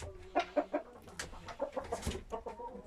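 Several short clucking calls from a rooster, close by, with brief harmonic bursts and a busy farmyard background.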